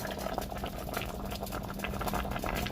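Afang soup with periwinkle and palm oil cooking in a covered pot, giving a steady low bubbling simmer with faint crackles and patter throughout, no talking.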